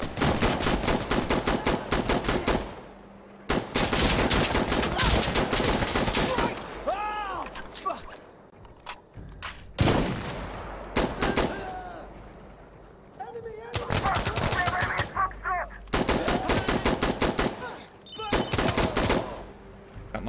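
A CAR-15 rifle fires in bursts in the shooter game Insurgency Sandstorm, with loud, rapid staccato volleys separated by short pauses and someone talking in the gaps.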